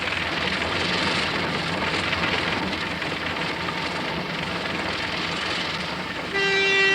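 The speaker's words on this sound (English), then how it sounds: "That's my train." A model steam train runs with a steady, close, broad rumbling chuff throughout, and a sustained whistle-like tone sounds near the end.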